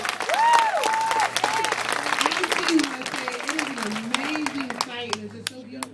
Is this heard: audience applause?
yes